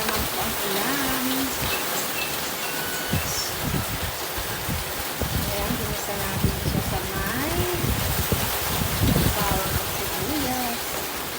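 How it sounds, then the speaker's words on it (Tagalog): Steady, dense rainfall pattering heavily all around with a broad hiss, heard under someone speaking Tagalog nearby. "Lakas ang ulan. Ayan naman po ang ulan."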